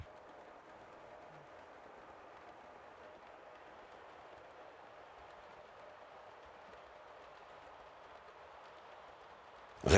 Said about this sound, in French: On peut y voir du coup circuler de grandes rames voyageurs ou marchandises.